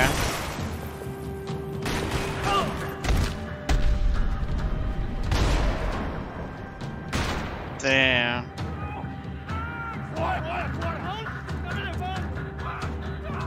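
Video game gunfire, with several loud shots and booming bursts scattered among engine noise and other game effects, while a voice talks over much of it.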